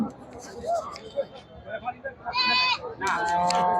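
Black Bengal goats bleat at a busy goat market, with several short, nasal calls standing out over a steady crowd murmur and nearby chatter.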